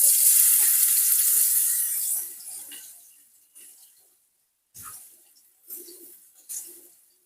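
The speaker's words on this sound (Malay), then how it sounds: "Kita tumis bawang ni ya" Onions sautéing in a pan with bird's eye chilli for a Thai-style fried sea bass dish: a loud, bright sizzle that fades after a couple of seconds, followed by softer intermittent hisses and stirring bursts.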